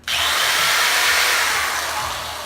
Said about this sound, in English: Standard drill,